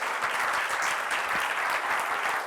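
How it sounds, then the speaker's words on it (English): A live audience applauds after a talk, dense steady clapping from a sizable crowd at even volume for a couple of seconds. "Daniel and Allison, round of applause."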